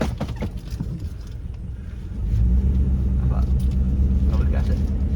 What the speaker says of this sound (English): Man, that's a heavy truck.